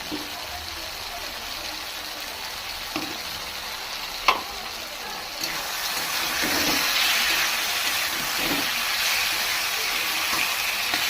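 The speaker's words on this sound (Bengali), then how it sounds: "জিরের গুঁড়ো দিয়ে একটু নাড়াচাড়া করবো।" Fish sizzles in hot oil in a pan as cumin powder is added and stirred, a continuous close crackling hiss with a sharp clink of a utensil partway through and the frying swelling slightly louder afterward.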